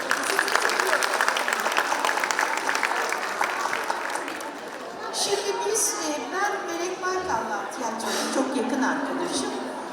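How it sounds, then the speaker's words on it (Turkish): A studio audience at a mother-and-daughter cooking show bursts into loud, dense applause that fills the first half, then thins out as laughter and talk take over. "Bir de size de alkış alalım yani."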